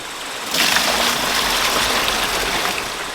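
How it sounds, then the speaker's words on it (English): Creek water gushes and splashes steadily into a cooler after a brief quiet start, a close, continuous pour that eases slightly toward the end. "Let's dump a little creek water in there for them."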